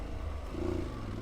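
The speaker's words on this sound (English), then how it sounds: "lugging the shit out of the engine for some reason" An adventure motorcycle's engine lugs at low revs on a backcountry trail ride, giving a low, steady, uneven thrum with faint clatter, heard close and alone.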